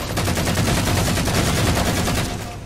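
Rapid automatic gunfire in the sci-fi shooter Halo 4 during a one-on-one match, a loud, steady stream of closely spaced shots that runs throughout and eases slightly at the end.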